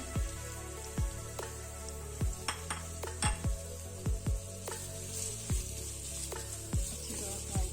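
Onions fry in a few spoonfuls of oil as part of a fried fish with tomato chutney recipe, a soft steady sizzle broken by repeated sharp clicks and taps of a spoon stirring against the pan.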